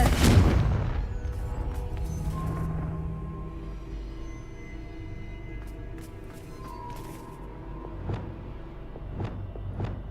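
Confringo blasting spell in Hogwarts Legacy, a single loud explosive boom at the start that rolls off into a long rumbling decay, followed by quieter ambient game tones and a few faint distant knocks.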